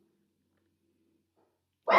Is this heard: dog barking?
yes